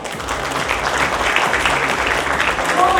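Dense audience applause fills the hall at a business conference session, loud and continuous with no gaps.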